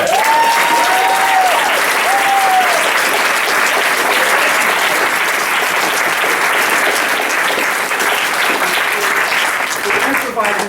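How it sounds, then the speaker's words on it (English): A large audience at a Detroit community forum on contesting visions of the city breaks into loud, sustained applause that stays dense and even for about ten seconds. A few cheers and whoops rise over it near the start. "Can we just give another big round of applause?"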